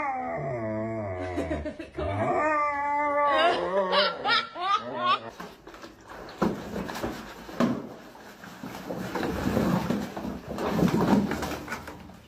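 A dog howls and whimpers loudly in a few rising, wavering cries during a bath, followed by water splashing and running noise with voices chatting.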